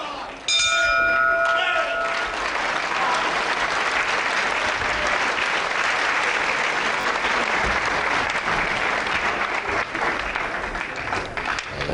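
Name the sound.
bell ringing at end of wrestling round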